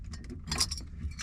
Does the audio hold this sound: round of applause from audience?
no